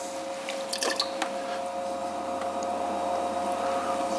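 A sponge on a stick squishes and wipes excess water from inside a freshly thrown pot on a pottery wheel. Soft, wet dabbing sounds cluster early, then the wiping continues over a steady electrical hum.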